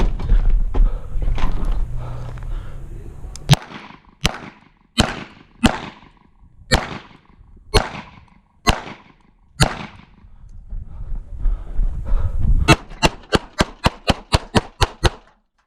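Pistol gunshots ring out at targets in a cowboy-style shooting match, first a spaced series of sharp loud cracks, then a pause with shuffling, then a rapid closing string of shots.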